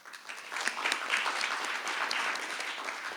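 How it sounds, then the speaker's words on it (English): Audience applause at the MIT IDEAS Social Innovation Challenge awards ceremony, a steady sustained wash of many hands clapping throughout, moderately loud and close. "Hands, yes, applause for everyone."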